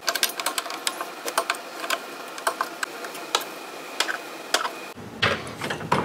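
A ratchet wrench loosens bolts on a Toro Greensmaster Flex21 reel mower, producing close, rapid clicking bursts and metallic ticks in irregular runs, with a brief shift in the background near the end.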